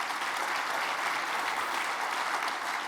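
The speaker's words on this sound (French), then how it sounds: "Merci beaucoup Olivier, on peut l'applaudir bien fort." Steady audience applause for a speaker closing a straw-building conference talk, a dense even wash of many hands clapping that holds for the whole stretch without voices.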